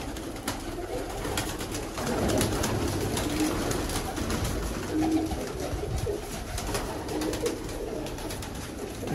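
Salara teddy pigeons coo over and over, their low throaty calls rising in a few stronger bursts against steady rustling and clicking background noise, with no one talking.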